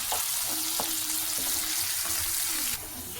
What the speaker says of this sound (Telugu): ఇది మనకి బ్రౌన్ ఆనియన్స్ లాగా వేయించుకోవాలా